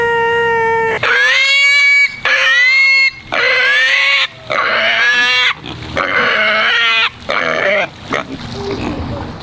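Pigs squeal in a run of loud, high-pitched bursts with short gaps between them, and lower grunts mixed in near the end.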